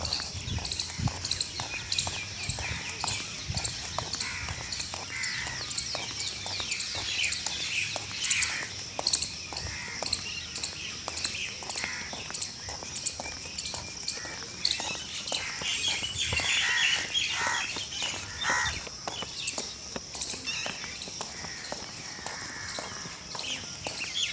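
Early morning birds chirp and sing repeatedly around a roadside walk, bright overlapping calls close and further off, with footsteps and faint background noise underneath.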